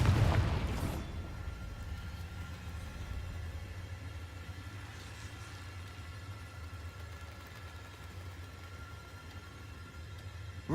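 A Confringo spell explosion in the Hogwarts Legacy video game: one loud burst right at the start that quickly fades into a low rumbling background hum for the remaining seconds.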